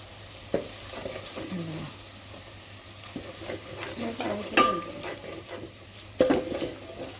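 Mutton cooked dry with masala and turmeric in a pan, stirred with scraping strokes and a steady low sizzle, plus a few sharp clinks of a utensil against the pan.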